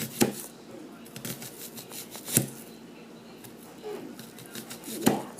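A knife cuts chicken on a board, with a few sharp, uneven chopping knocks spaced across the stretch and quieter scraping between them, close and fairly soft.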